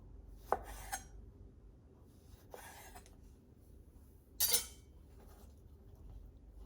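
A knife cuts cornichon pickles into slices on a board, giving three separate crisp chopping strokes spaced a couple of seconds apart, close and clear against a quiet room.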